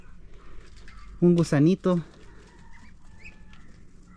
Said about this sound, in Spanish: Miren, patos,